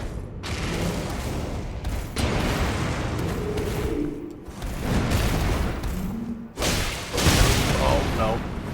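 Grenade explosions from the video game Elden Ring go off as a string of heavy booms and bursts over dense, continuous battle noise, loud and close with no pause between blasts.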